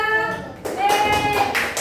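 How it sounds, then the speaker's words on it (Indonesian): A classroom of students claps for a presenting group, a few rhythmic claps following a short stretch of a voice, close and fairly loud. "Tepuk tangan buat kelompok"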